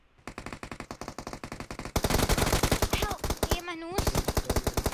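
Rapid automatic gunfire bursts in the PUBG Mobile battle royale game, loud and close with a steady rhythm of repeated shots, while excited players shout and talk over the shooting.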